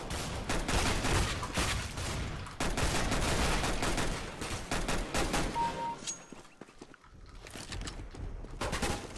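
Rapid bursts of gunfire from a CS:GO deathmatch, dense and loud, with a short lull before the shooting resumes.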